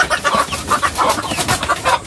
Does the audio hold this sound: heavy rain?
no